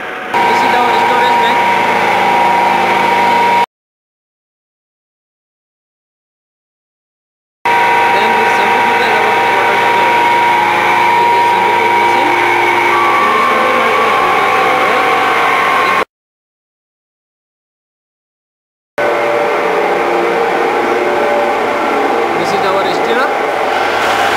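Sterilizing reactor with vacuum heating at an aloe vera juice plant, a steady machine hum and whir broken by gaps of silence, with someone talking over it.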